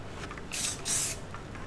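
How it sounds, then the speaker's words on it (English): Two short hissing bursts from an old aerosol spray paint can, close and fairly quiet, the second slightly longer, with faint rustling between. "It is an old can of spray paint."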